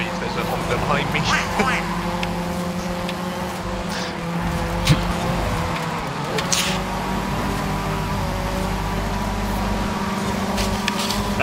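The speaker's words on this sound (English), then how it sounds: "I know just from the noise there's a Honda behind me." Engines of Honda and other cars racing in Forza Horizon 5, a steady loud engine drone throughout with occasional tire noise, while players talk over it.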